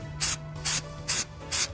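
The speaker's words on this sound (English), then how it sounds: "So I spray all these seams all around the bottom also." Four short, evenly spaced bursts of aerosol Flex Seal hiss onto the seams of a USGI rain poncho, close and crisp with brief pauses between each spray.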